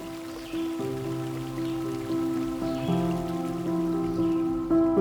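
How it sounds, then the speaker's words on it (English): Rain falls steadily by the Gander River, a continuous wash with layered tonal hum and water noise running throughout, fairly close and even in level. "another heavy front laden with rain moved in"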